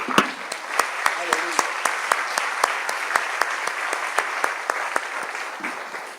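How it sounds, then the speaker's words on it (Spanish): A church congregation applauds in a Spanish-language service, steady massed clapping with sharp rhythmic beats running through it, held at an even moderate level throughout. "Denle un aplauso al Señor porque Él vive"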